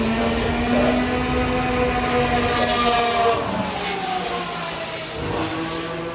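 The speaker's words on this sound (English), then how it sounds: "the BRM E261, which is another car that was great to see on the hill" A BRM E261 Formula One car climbs the hill at the 2021 Festival of Speed, its loud, close engine holding a sustained high-pitched drone with slight pitch shifts as it accelerates and lifts.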